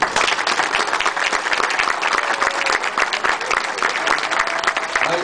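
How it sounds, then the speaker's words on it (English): A Lions Club audience gives a sustained round of applause, dense and even from start to finish. "I think they deserve a round of applause."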